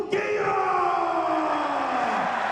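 An arena crowd at a Pride FC 19 fight roars loudly and continuously, with a sustained mass of voices that swells at the start and then holds, easing off slightly toward the end.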